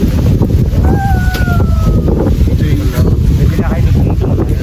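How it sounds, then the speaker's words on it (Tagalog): Steady, heavy wind rumble buffets the microphone throughout, with a brief tonal whine partway through, in the parking area of Kalinisan Beach Resort, Batangas. "Hangin."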